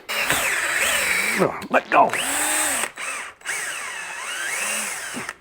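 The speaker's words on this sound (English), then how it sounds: "I'm going to use a 1/4 inch drill bit." A power drill fitted with a 1/4 inch bit bores into a plastic broom head, its loud whine rising and falling in pitch through several bursts, with brief pauses and a voice speaking near the middle.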